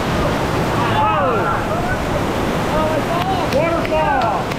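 Water rushes and splashes loudly and steadily as a water ride passes under a waterfall at Busch Gardens, over broadband roar, with excited voices calling out above it.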